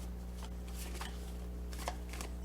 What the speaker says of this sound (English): This deck, I have to do the hand-to-hand shuffle.